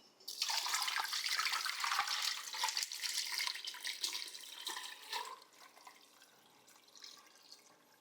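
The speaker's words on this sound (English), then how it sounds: "I'm gonna take the brine that we made earlier and just pour it over the top until it covers the chicken" Liquid brine poured from above into a pot over a whole chicken, a steady splashing pour for about five seconds, then softer trickles and drips as it eases off.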